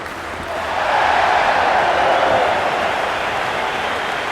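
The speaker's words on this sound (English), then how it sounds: "The crowd is electric right now." A large cricket stadium crowd at an England versus India T20 match roars in a broad, sustained swell that rises after the first half second and holds steady, loud and diffuse, with no individual voices standing out.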